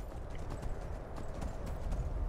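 Horse hooves clop in a quick, rhythmic gallop in the video game Skyrim Dawnguard, close and steady over a dense, noisy background.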